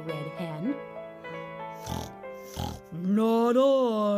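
A pig oinking in a pigsty while eating from a bucket of slop, with drawn-out nasal oinks and two sharp snorts mid-clip, loud and close, in a storybook-style reading. The oinks may be voiced by a narrator imitating the pig.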